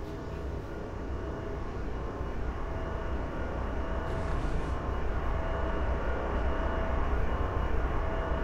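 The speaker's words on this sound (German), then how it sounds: "Fliegt noch ein Flieger." An airplane drones overhead in Train Sim World 5 on the Salzburg–Rosenheim route. It is a broad, steady engine roar that swells slightly as it nears, with no talk over it.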